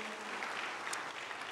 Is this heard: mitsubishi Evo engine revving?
no